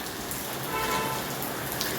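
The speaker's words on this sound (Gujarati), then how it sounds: "કેવો વરસાદ પડે હે જો ભાઈ વરસાદ જો જામનગર બજારનો જો વરસાદ ભાઈ જોઈ લ્યો" Heavy rain pours onto the road in Jamnagar market in a dense, steady wash of hiss and patter that stays even and fairly close throughout.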